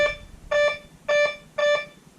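A bright electronic beeping tone from a Whites MX Sport metal detector repeats in four evenly spaced bursts, each with a slight stutter, over low background hiss.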